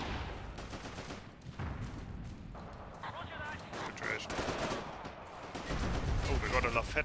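Gunfire in the Forgotten Hope 2 World War II shooter on a Gold Beach map: scattered single shots and bursts of rifle and machine-gun fire, some near and some distant, mixed with battlefield noise and talk.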